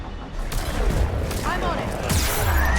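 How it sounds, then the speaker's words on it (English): Aircraft fire missiles in the game Mass Effect 3, a fast salvo of booming launches and whooshes layered over continuous battle noise, loud and close. "Missiles on. Missiles away."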